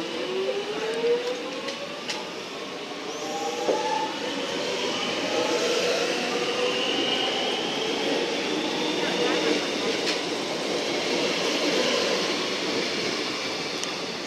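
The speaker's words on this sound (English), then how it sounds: "Glen Waverley train now departing Holmesglen, platform 2." A Metro train to Glen Waverley pulls out of Holmesglen station platform 2, a broad rising whine and rail rumble swelling and holding steady as it accelerates away, with faint station sounds behind.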